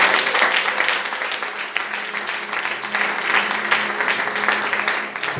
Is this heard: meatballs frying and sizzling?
no